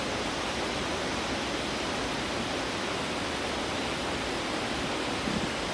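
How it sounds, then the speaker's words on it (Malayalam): Water gushing forcefully through the shutters of Kanhirapuzha Dam makes a dense, steady roar of broadband rushing noise, loud and unbroken from start to finish with no voices. "ഷട്ടറിൻ്റെ കൂടെ നല്ല വെള്ളം ചാടുന്നുണ്ട് നല്ല ഫോഴ്സിലാണ് വെള്ളം വരുന്നത്"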